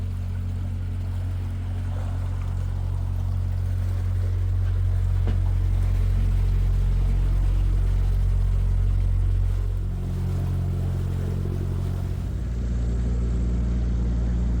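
A canal narrowboat's engine drones steadily through the countryside, a loud continuous low rumble with a faint chug that shifts slightly in pitch partway through, with no voices.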